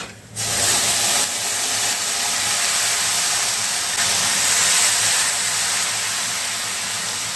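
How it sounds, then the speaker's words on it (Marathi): Boiled water poured into roasted rice rava in a hot pan for upma, bursting into a loud, continuous steamy hiss and rush that holds steady throughout with no talking. "आपण उकळलेलं पाणी आता त्यामध्ये घालून देऊया."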